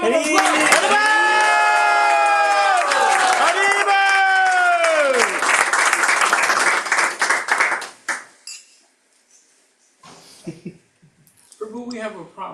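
A crowd at a Krishna Katha gathering in Philadelphia's Bhakti Gardens claps and cheers loudly with long sustained shouts and whoops, then the applause fades out to near silence, followed by a few scattered voices.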